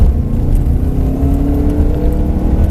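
A car accelerates during a driving course, its engine a steady, loud drone with a gradually rising tone and no pauses, heard up close.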